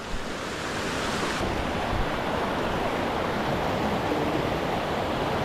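A mountain river in the Valmasque valley, with its roaring rush of water heard close and loud, broad and constant, mixed with some wind buffeting the microphone and no speech.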